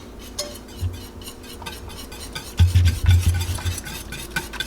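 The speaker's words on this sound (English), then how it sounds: "we are going to continuously stir this for the next 5 minutes" Barbecue sauce stirred continuously in a pan over low heat, close rhythmic scraping and swishing with a gentle bubbling undertone and a few louder strokes midway.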